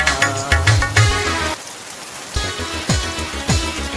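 Steady rain pours down, a dense continuous hiss of drops on surfaces, close and loud, with a few low thumping knocks in the background.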